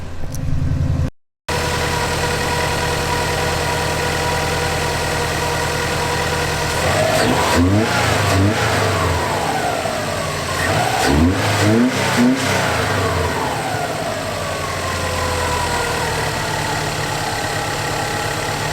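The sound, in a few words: Subaru Impreza WRX engine revving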